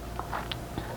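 Close, quiet crunching bites and chewing of pickled gondre namul leaves, a few crisp crackles scattered over about a second with no talking.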